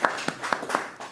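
A handful of sparse, separate hand claps at an 11th anniversary gathering, about five quiet slaps spaced unevenly over a moment, like a small group starting a round of applause.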